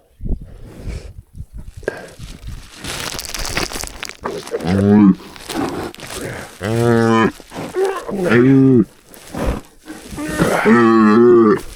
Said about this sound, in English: When she snorts like that, that's a bad sign.